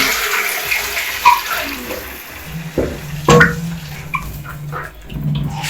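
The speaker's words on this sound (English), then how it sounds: "we are going to add our brown stock, the soup from our meat." Brown beef stock splashes and pours into a cooking pot while Kenyan beef pilau is being made, a close, steady watery gush with a few clunks and small bumps along the way.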